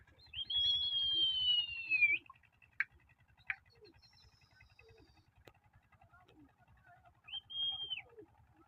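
A pigeon gives a few calls at close range, one long sliding note then short bursts, with a soft low rhythmic pulsing underneath and quiet gaps.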